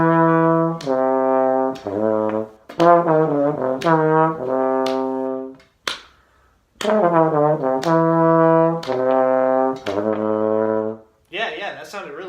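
Beginner student playing a practice piece on the horn during a lesson: sustained tonal notes in phrases with short pauses, moderately loud and close, a brief breathy sound near the end.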